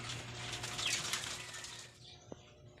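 Racing pigeons returning from a 51-kilometre training release flap their wings in a steady rustling flurry outdoors, fading away near the end with a brief soft knock.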